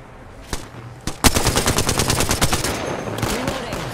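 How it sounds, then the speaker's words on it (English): Gunfire in Apex Legends: a few single shots, then a rapid automatic burst of evenly spaced, loud cracks for about two seconds, followed by scattered further shots. "Listen up, I'm getting shot at. I'm taking fire."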